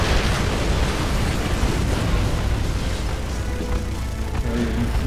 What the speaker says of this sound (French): Ça explose de partout.